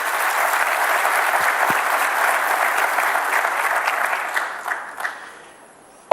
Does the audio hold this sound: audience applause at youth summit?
yes